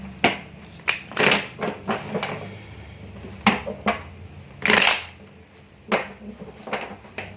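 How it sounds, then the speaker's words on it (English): A tarot deck shuffled by hand close up, with bursts of riffling card noise and soft flicks and taps, quiet pauses between the shuffles and no voice. "One more shuffle."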